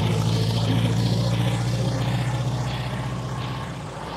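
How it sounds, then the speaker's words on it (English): A 1978 Matra M530 with an offbeat Ford V4 engine runs with a loud, throbbing, uneven low burble, close by and steady, slowly fading as it moves away. "You can hear that offbeat V4 Ford engine."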